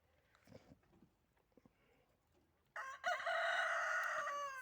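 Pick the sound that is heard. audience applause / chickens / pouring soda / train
chickens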